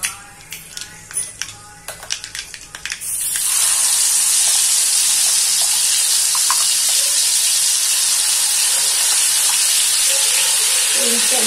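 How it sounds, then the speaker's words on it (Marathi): Ground spice paste dropped into hot oil with mustard seeds in a pan for a drumstick bhaji: after a few seconds of clinking and handling, a loud, sudden sizzle bursts out and holds as a steady, close, hissing fry to the end. "हे जे वाटण आहे हे सगळं आपण याच्यात घालूया"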